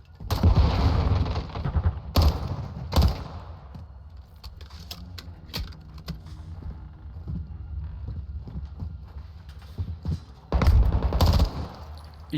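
Gunfire in the Call of Duty Modern Warfare 2 campaign on Veteran difficulty: several sharp, loud bursts of shots separated by quieter stretches with scattered clicks and game ambience, and no speech.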